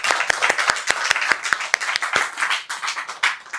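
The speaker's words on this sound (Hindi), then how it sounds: "क्या हम यीशु मसीह के लिए जोरदार ताली बजा सकते हैं?" During a Hindi-language church service, the congregation claps for Jesus in a lively burst of close, crisp hand claps, quick and fairly rhythmic at first, then loosening into scattered applause.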